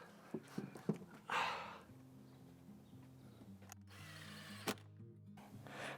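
A power screwdriver whirs in short bursts, driving screws into a Persian shutter with rising motor whines, interspersed with clicks and handling noises, close up.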